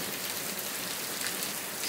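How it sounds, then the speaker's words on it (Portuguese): Heavy rain pours down in the countryside of the Paraíba sertão in northeastern Brazil, making a steady, dense hiss of drops that continues without a break. "Chuva boa de verdade, viu?"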